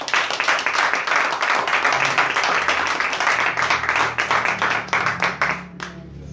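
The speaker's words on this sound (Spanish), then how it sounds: "Un aplauso al Señor." An audience at a church leadership class claps together in a dense, sustained burst of applause, loud and close, tapering off at the end as faint voices begin.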